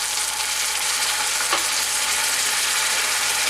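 Onions frying in a pan with a spoonful of garlic paste for a restaurant-style shahi paneer make a steady, close, dense sizzle that runs unbroken throughout, with no voices.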